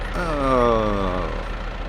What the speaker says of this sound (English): Let me turn the tractor.